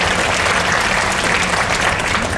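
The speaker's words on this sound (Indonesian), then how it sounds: "Tepuk tangan dulu dong, ini cinta loh." Audience applause at a motivational talk by a blind speaker at Menara 165, a steady dense burst of clapping filling the hall without pause.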